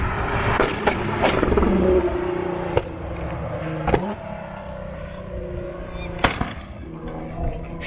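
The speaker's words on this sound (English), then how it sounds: "You can hear him coming down. Hear those backfires." An 800bhp HKS-tuned Nissan GT-R revs hard and roars past nearby, its engine note rising and falling, punctuated by several loud, sharp backfire cracks.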